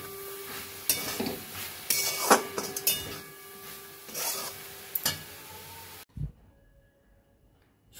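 Stirring of drumstick flower chachori in a pan: several scraping, rubbing strokes of a spatula against the pan, close and fairly loud, over a faint sizzle, ending after a few seconds with one soft knock and then near silence.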